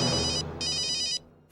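A telephone rings in two quick electronic bursts with a short gap between them, clear and near, over low background music.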